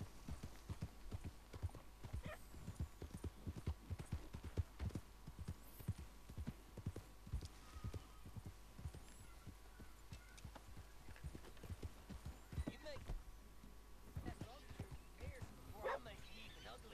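Horse hooves clip-clopping in a video game, a steady run of sharp, fairly close hoofbeats over a low background rumble, with occasional voices faintly underneath.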